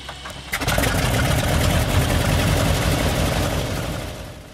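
Large radial engines of an Albatross amphibian aircraft rumble loudly and steadily at close range, a sputtering start giving way to a sustained deep drone that fades slightly toward the end.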